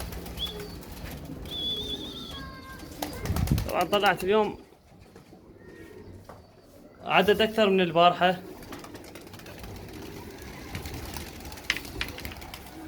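Rooftop pigeons coo softly in the background while someone talks over them in two short stretches, with low ambient noise between.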